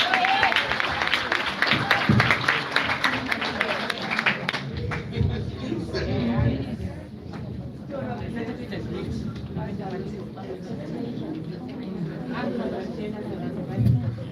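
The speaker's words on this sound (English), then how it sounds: "Clap hands for me, then I sit down." Audience clapping at a live online session, a dense patter of hands mixed with crowd chatter and babble, loud at first and then easing into a steadier murmur of applause and voices.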